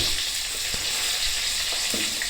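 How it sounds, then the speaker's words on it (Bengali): Steady, soft sizzling of pointed gourd frying in oil with turmeric over low heat, a continuous crackle with a few faint clinks, no voices. "এইভাবে পটলটা আপনাকে প্রায় দু থেকে আড়াই মিনিট ধরে হালকা আঁচে ভেজে নিতে হবে"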